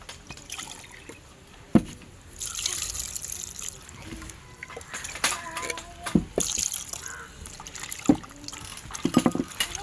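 Cut cuttlefish being rinsed in water at home, with soft trickling and sloshing splashes throughout, a few sharper knocks of handling, and no talk.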